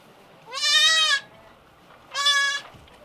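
Newborn Boer goat kids bleat twice, close by: two strong, drawn-out cries separated by a short pause, with no voices over them.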